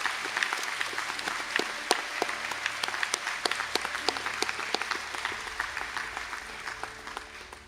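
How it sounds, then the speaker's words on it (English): Guests at a college conferring ceremony in Sligo give graduates a round of applause: moderate clapping in a large hall, with many sharp individual claps standing out in an uneven rhythm that gradually thins toward the end. "applause"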